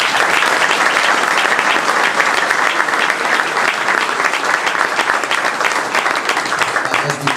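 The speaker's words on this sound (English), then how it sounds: "round of applause for everything and everyone here today" An audience claps steadily throughout at a La Follette High School celebration, dense sustained applause filling a large space without a break.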